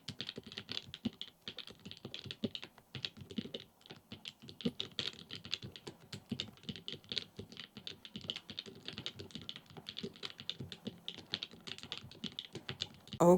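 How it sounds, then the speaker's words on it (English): Rapid typing on a handmade wooden computer keyboard, a close, steady patter of clicky keystrokes with brief pauses, heard alone without talk. "let's check out the sound for the keyboard"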